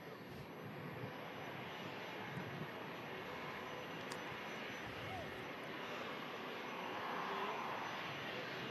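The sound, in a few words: Virgin Atlantic aircraft departing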